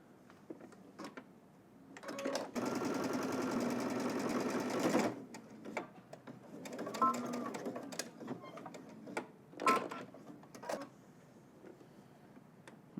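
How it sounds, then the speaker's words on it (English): A sewing machine top stitches a pressed curve in a garment, one sustained close run of stitching followed by short bursts, clicks and handling noises. "now we're just gonna go ahead and top stitch, catching that end on the other side"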